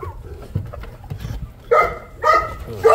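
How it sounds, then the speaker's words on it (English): A kenneled dog, a female in heat, gives three loud, sharp barks in quick succession near the end, after a stretch of quieter low rumbling. "Oh, fucking dog, shut the fuck up."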